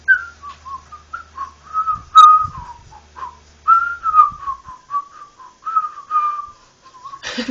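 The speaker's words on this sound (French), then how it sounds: "Je suis en train de siffloter, c'est tranquille." A person whistles a meandering tune alone, clear and close, with short phrases and brief pauses, a few soft knocks and rustles beneath, ending on a sudden burst of noise.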